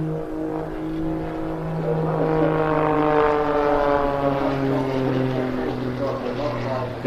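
A jet-powered aerobatic aircraft drones steadily at an air festival while flying a half Cuban manoeuvre with a 720-degree roll on the downline, its loud sustained engine tone shifting in pitch as it passes, with a commentator talking over it.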